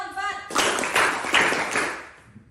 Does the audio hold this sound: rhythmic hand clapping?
yes